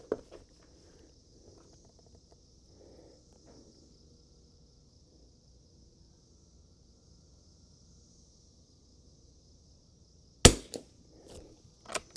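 A Winchester 52D rifle with a lap pull, shot from a bench with Midas Plus ammunition, lets off one sharp, loud report late in an otherwise quiet stretch, followed by a couple of fainter knocks, over a steady high electronic whine.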